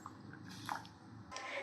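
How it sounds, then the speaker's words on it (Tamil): Half a glass of water poured into jaggery in a pan while making moong dal ukkarai, a brief soft splashing and dripping close by. "இப்போது அரை கிளாஸ் தண்ணி ஊற்றிக்கலாம்."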